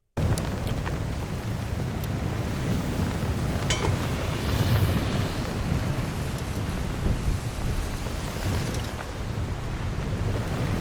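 Hurricane wind roars steadily in the ARC Raiders video game, a loud continuous rushing gale with gusty swells and a few faint clicks under it, and no speech.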